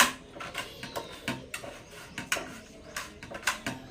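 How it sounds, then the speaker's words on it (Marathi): Knife cutting tomato on a board, a steady series of soft close taps and slicing strokes repeating roughly every half second, fairly quiet with no talking. "टोमॅटो आता आपण थोडं कट करून घेऊया"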